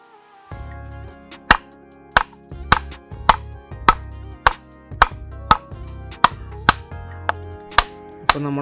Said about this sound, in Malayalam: അപ്പോൾ നമ്മൾ അതൊക്കെ ഒന്ന് ചെറുതായിട്ടൊന്ന് കട്ട് ചെയ്തെടുക്കുന്നുണ്ട്